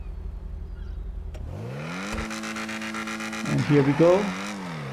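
A Jaguar XE Project 8 in a video game revs hard and climbs through the gears, its engine note rising in steady pitch steps with a brief shift break, then surging louder near the end as a voice talks over it.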